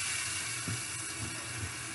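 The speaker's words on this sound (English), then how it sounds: "Now again, I'm gonna run the water." Tap water runs steadily into a sink while crochet hair is rinsed, a constant close hiss with a few soft splashing shifts beneath it.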